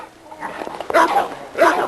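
A roughly seven-month-old young dog in a breeding kennel yard barks twice, two sharp close yelping barks with faint sounds in between.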